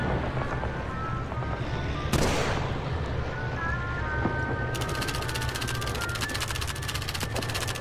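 Rifle shots from Call of Duty 3 striking helmets at a shooting challenge, heard as a few sharp cracks over a steady game background rumble, with a burst of rapid clatter later on.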